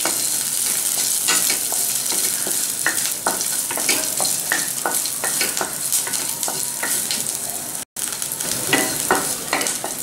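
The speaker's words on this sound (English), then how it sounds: "Now add to this garlic and green chili. Just saute this for a few seconds." Garlic and green chili sauté in a hot pan, a constant crackling sizzle broken by repeated spatula scrapes and taps, with one brief dropout near the end.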